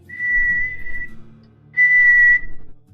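A voice imitates a whale breaking wind in air with two long, steady, high whistles, the second one louder and shorter, with faint room noise in between.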